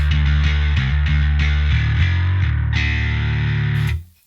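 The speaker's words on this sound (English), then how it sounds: "some more distortion there if you want to, fill out the void a bit more" Bass guitar played through a Rat-style distortion pedal, chasing a bassist's tone: loud, gritty sustained notes with a few attacks, fading out at the end.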